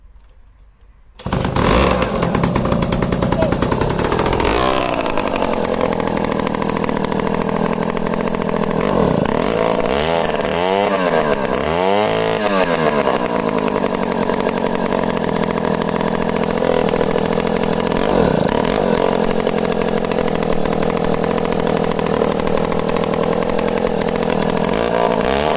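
A 68-year-old 1950s chainsaw starts and runs steadily, its loud, close engine droning at a rough idle with brief revs partway through, the noise continuing throughout.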